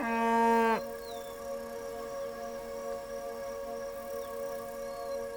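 A pregnant cow trapped in a well in Botswana lets out one short, loud moo, then the scene settles into a steady, faint tonal drone with no voices.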